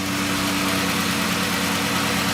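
A Dodge Grand Caravan engine idles in a shop with the air filter removed, giving a steady, even hum with a constant low vibration, close and unbroken, with no talking.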